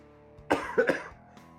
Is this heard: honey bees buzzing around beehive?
no